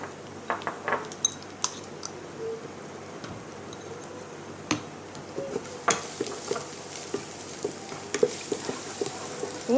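Garlic and green chilli sauté in a pan with a soft, steady sizzle, broken by frequent sharp clicks and clinks of a utensil scraping and tapping the metal.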